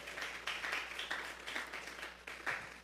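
A church congregation claps steadily in rhythmic unison, a moderately distant, even run of claps with no talk over it.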